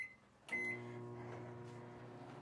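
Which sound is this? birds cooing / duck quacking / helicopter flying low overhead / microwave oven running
microwave oven running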